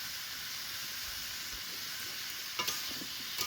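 Pumpkin pieces with salt, turmeric and ginger paste fry in oil, giving a steady, even hiss of sizzling with a couple of soft stirring knocks near the end and no talking.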